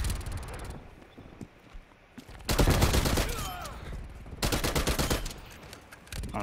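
Bursts of automatic gunfire in the video game Black Ops Cold War, with loud dense volleys crackling in repeated clusters between quieter gaps and scattered single shots.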